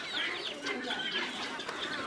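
Chickens cluck in a farmyard, with rapid, fairly loud, close bursts of clucking that repeat throughout the short stretch.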